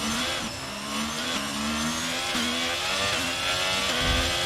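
Race car engines in a racing video game at the French circuit, several cars revving hard off the grid at lights out, with overlapping rising engine notes and gear-change dips, loud and continuous.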